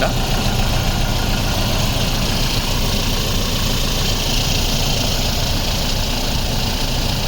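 A 2022 Toyota Fortuner 4x4 diesel engine idles steadily and loudly up close, a constant low rumble with a slight knocking chatter, no voices.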